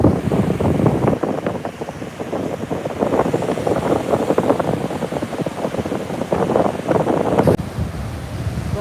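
Gusty wind rushes and buffets the microphone with a constant roar, joined by crashing surf at Enoshima Beach in Kamakura, Japan, at sunset, and no voices are heard.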